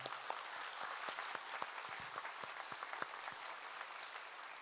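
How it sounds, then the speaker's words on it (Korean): A church congregation applauds during a dedication thanksgiving service, a steady wash of hand clapping filling the room for several seconds at moderate volume, with no speech over it. "우리 박수하겠습니다"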